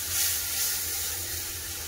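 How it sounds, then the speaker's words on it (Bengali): Chilli, cumin and coriander powder masala frying in oil, a steady close sizzle and hiss running evenly throughout with no talk. "লঙ্কা গুঁড়ো, জিরা গুঁড়ো, ধনিয়া গুঁড়ো দিয়ে ভালো করে মশলাটাকে কষে নেব।"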